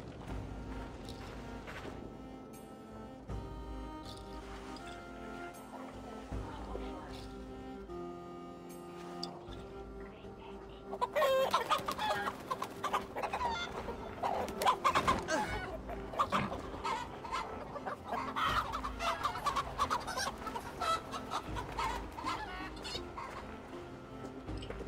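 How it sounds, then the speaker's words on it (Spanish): Chickens clucking in the video game Assassin's Creed Valhalla, agitated fowl calls over game background sound and music, growing busier and louder in the second half, with brief voices. "No le caemos muy bien a las gallinas."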